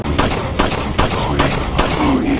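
Rapid gunfire in Resident Evil 4 HD, a steady run of loud, close shots fired in quick bursts across the whole moment, with no pause between volleys.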